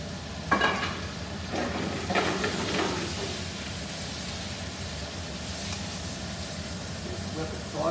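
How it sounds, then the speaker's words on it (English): Shrimp sautés in a pan with a shallot and garlic mixture, a steady close sizzle with a few utensil scrapes and bursts near the start, then an even frying hiss running throughout. "saute it all with that."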